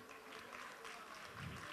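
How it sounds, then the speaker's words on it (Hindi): Festival audience gives a short burst of applause, a soft, steady clatter of many hands at a distance. "एक बार जोरदार तालियां"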